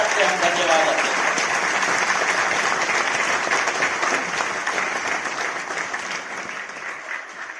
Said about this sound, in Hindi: तालियों की गड़गड़ाहट से हम धन्यवाद देते हैं।